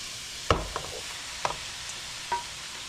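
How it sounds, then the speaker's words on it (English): Beans and lentils are stirred in a pan with a soft, steady sizzle. A few distinct scrapes and knocks from the utensil stand out close and moderately loud. "now we're going to add back in the beans, the lentils"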